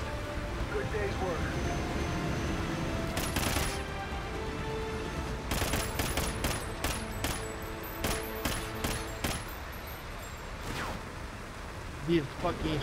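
Scattered gunfire in a Call of Duty Ghosts multiplayer match on the Octane map, sharp separate shots and short bursts popping over steady background game noise, moderately loud and fairly close.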